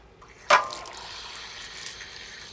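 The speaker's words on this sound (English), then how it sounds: "You bleed all the pressure that's inside. As you see, it runs out." Water from an RV water heater tank, released as the tank's pressure is bled, bursts out with a sudden gush, then settles into a steady rushing hiss that runs on to the end.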